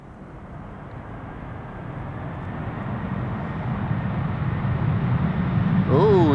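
A heavy jet airliner lands at Amsterdam Schiphol Airport, its broad engine roar building steadily and growing louder across the whole stretch, a sustained rumble without a break.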